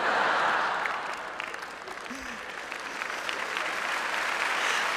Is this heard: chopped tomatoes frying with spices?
no